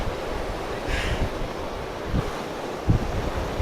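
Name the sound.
fast-flowing river water rushing in Kullu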